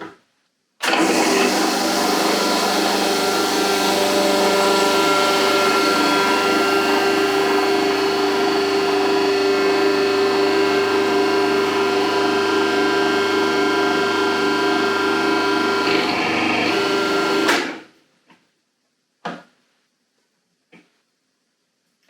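A Magimix juice extractor juices oranges with a loud, steady motor whir that runs continuously for about seventeen seconds, then stops abruptly, followed by a few faint clicks.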